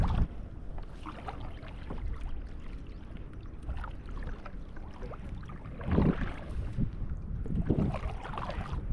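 A kayak is paddled around a corner on open water, with soft, repeated paddle splashes and water swishes over a steady wash of wind and ambient rumble, close by.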